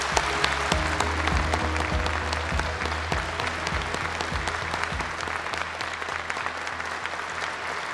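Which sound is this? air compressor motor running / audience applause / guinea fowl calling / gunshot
audience applause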